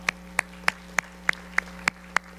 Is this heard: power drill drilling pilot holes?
no